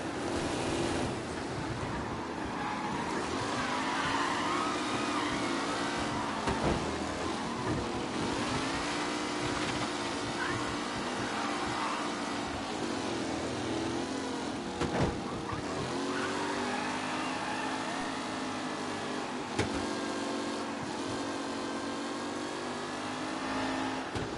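Race car engines from the Mafia: Definitive Edition video game drone steadily as the cars line up and start the race, with rising and falling revs sweeping through a constant roar and no talk.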